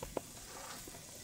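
Hot oil sizzles softly and steadily in a pan while a hotteok pancake fries, a faint continuous hiss with one small pop near the start.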